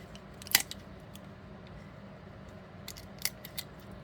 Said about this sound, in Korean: 가위로 이쪽을 잘라 놓으세요